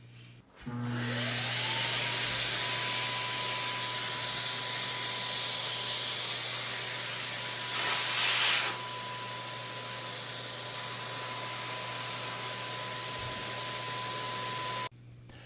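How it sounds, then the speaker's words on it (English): A steady, loud hiss of a paint sprayer test-spraying its fan before painting cabinet doors runs continuously for several seconds over a constant motor hum, with a brief burst of stronger spray midway. "I always test out my spray fan before I start spraying the cabinet doors"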